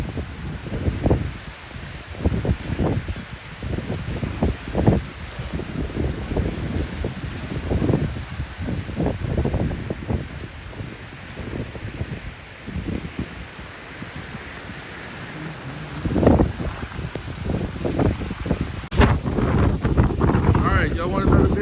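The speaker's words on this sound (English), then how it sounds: "currently getting 40 to 50 mile an hour winds steady, sustained" Hurricane Francine winds of 40 to 50 mph sustained, roaring and buffeting the microphone in loud continuous gusts with rushing noise throughout.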